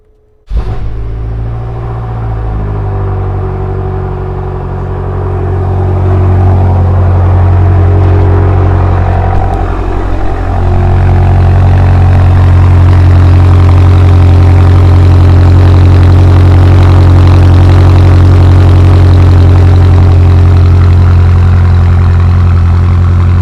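BMW V8 cold start: a sharp crank and catch, then a loud, deep idle that swells into a high, steady rumble and holds, close-up with no talking.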